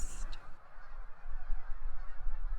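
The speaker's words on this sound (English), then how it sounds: "you can still hear the loud honking as it resonates across the marsh" Thousands of geese honk in a dense, overlapping chorus over a marsh at dusk during fall migration, against steady low rumble, the flock calling from a short distance.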